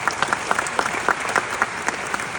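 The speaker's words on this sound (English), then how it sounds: "I want to clap for that." Applause from a real estate conference audience, a steady crowd of clapping hands at close range, dense and even throughout the short burst with no voices over it.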